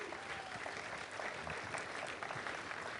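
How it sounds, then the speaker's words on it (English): Steady audience applause filling a hall at a Mrs. Texas pageant, sustained and dense throughout, with a faint voice underneath. "how about a round of applause for everybody who's sponsoring tonight?"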